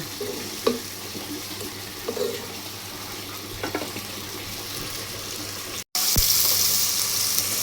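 Spices for a vegetable dish are stirred and fried in a pan with a little water. Scraping stir strokes sit over a continuous sizzle, which cuts out briefly, then returns louder and hissier. No voices.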